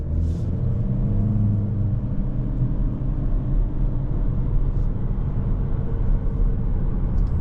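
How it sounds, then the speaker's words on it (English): A 2025 Chevrolet Equinox Activ compact SUV with a CVT accelerating from a stop, a steady low engine drone and road rumble heard from inside the cabin, no talk. "The engine gets it up to speed."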